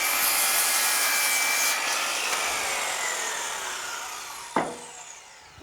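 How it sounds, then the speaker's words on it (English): Miter saw cutting a wooden baton for bench bases, a loud close whine that slowly winds down after the cut, ending with a brief thump near the end; no speech. "I've set up a little stop here on my miter saw so that it's much easier to get repeat cuts"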